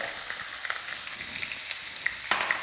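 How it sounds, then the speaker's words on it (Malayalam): Sliced onion hits hot oil with cumin and asafoetida for aloo matar curry, setting off a steady, close sizzle with scattered small pops and crackles. "ഇപ്പം ജീരകം മൂത്ത് കഴിഞ്ഞ് നമുക്കതിനകത്തോട്ട് സവാള ഇടാം."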